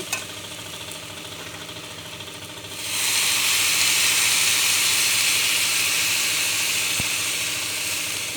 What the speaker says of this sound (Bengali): অনেকক্ষণ হয়ে গেছে কষানো, এবার আমি জল দিয়ে দিচ্ছি।